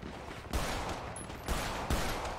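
Shooter video game gunfire, several sharp shots in an irregular burst over a constant noisy game background, with no talk.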